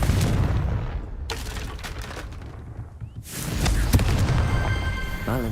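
A Confringo blasting spell detonates in Hogwarts Legacy with a sharp broadband burst, then a second, longer explosive roar that swells and rumbles for a couple of seconds over continuous game ambience.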